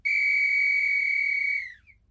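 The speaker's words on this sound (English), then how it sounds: "there was the faint, clear sound of a whistle being blown not far away." A single sustained whistle is blown steadily for about a second and a half, then trails off, with a brief faint chirp at the very end; it rings clear and alone against quiet, an audiobook sound effect.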